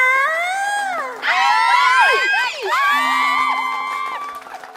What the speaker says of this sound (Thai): ว้าว เสียงกรี๊ดถล่มทลาย